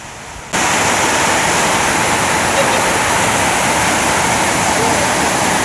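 Vattai waterfalls roar as a steady, loud broadband rush of falling water close by, beginning abruptly after a brief quieter moment and holding constant throughout.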